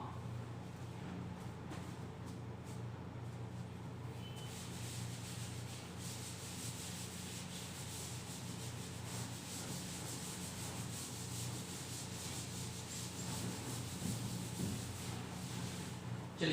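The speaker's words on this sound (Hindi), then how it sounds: "चलिए इसको रब कर दें आप" A duster rubbing writing off a classroom board during a maths lesson, a soft, continuous scrubbing and brushing that runs steadily throughout, faint and close with no talking.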